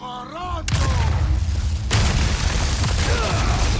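Dynamite blasts in the survival horror game Resident Evil 4, two sudden heavy booms that cut in and leave a dense, rumbling wash of noise, with a voice briefly heard before the first blast.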